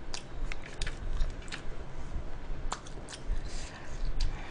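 Crunchy chewing of crispy fried skewers, moist crackling bites repeating close to the mic over a soft steady background.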